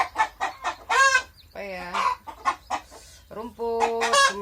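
Backyard chickens raised as livestock cluck and squawk in repeated short bursts close by, with longer strained calls between them, while someone briefly speaks Indonesian over the birds.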